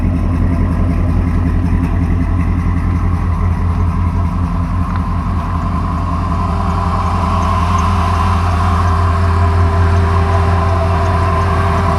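A 1955 Chevy truck body on a 2005 GMC chassis idles with a 3-inch exhaust and cheap Flowmaster-style copy muffler, a loud, steady, deep rumbling burble with rhythmic low pulsing throughout.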